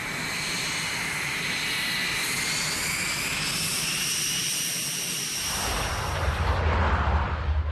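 A Lockheed U-2 reconnaissance plane flies overhead with a loud, sustained jet engine roar whose pitch drifts slowly as it passes, swelling into a deeper rumble near the end, alone.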